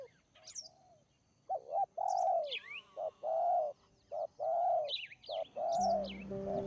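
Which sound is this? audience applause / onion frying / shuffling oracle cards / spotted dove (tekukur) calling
spotted dove (tekukur) calling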